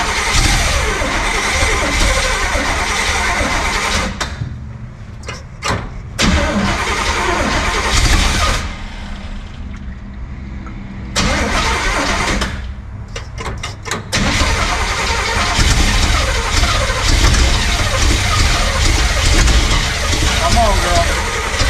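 A van starter cranks in several bursts with short pauses before the engine catches and runs, loud and close, with voices talking over the noise.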